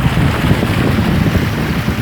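Heavy rain pours onto a flooded city street at a downtown intersection, water rushing like a river in a loud, steady broadband wash with no break, close and dense.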